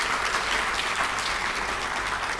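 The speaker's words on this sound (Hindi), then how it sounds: "जरा योगी जी के लिए जोरदार तालियां आप लोग बजाइए" Steady, dense applause from a large audience at a Hindi-language magazine launch event in Uttar Pradesh, continuous clapping filling the whole moment without a break or voices.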